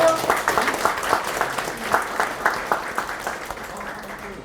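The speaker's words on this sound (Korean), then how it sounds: "울산광역시 남구의회 최신석 의원님도 함께 하고 계십니다. 여러분 큰 박수 부탁드리겠습니다" Audience applause at a party members' meeting welcoming a district councillor, a crowd clapping with distinct individual claps audible in an uneven rhythm, strong at first and thinning toward the end, with no talk over it.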